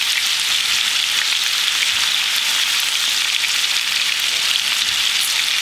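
Steak frying in a pan with garlic and rosemary, a loud, dense, even sizzle crackling continuously without pause, close up and with no voices.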